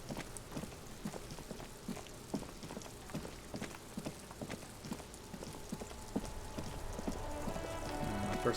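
Steady rain patters in Disco Elysium, a soft, even wash broken by regular clip-clopping steps, with a faint tonal hum building toward the end.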